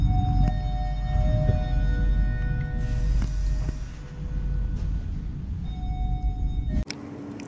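Steady low rumble and rattling of a moving train interior, with a constant hum, occasional clunks, and a sharp jolt near the end; no talking.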